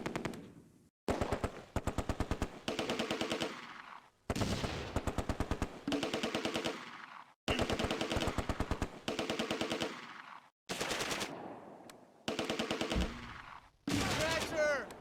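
Repeated bursts of MG42 machine gun fire in the Close Combat war game, rapid ripping volleys of several seconds each separated by brief pauses, loud and close, with sharp individual rounds audible at the start of each burst.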